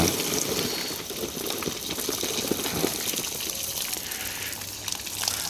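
Water rushes from a pipeline in a loud, steady gush that stays continuous and close throughout, with no pauses.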